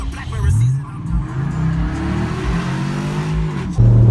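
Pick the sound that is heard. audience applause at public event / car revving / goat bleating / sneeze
car revving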